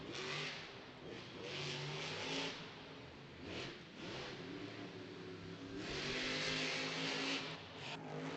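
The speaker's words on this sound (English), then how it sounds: "You can hear that son of a digger truck screaming." Monster truck at a Monster Jam stadium show in Anaheim, its engine roaring and revving wide open in long sustained surges over constant crowd and arena noise.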